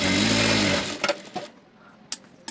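A sewing machine stitching a blouse lining runs in a loud, close, steady whir for about a second, then stops, leaving a few soft clicks and handling taps.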